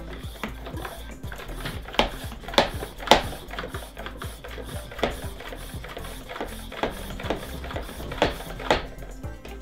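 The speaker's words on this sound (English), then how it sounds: "Now, let's pump this up and see how it works." A portable camping shower being worked by hand pump, giving a steady run of quick mechanical clicks and knocks in a close, repetitive rhythm for several seconds.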